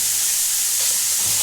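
Mushrooms with capsicum and sweet corn fry in a pan with a continuous, even sizzle and soft steam hiss, loud and close, without speech or stirring accents.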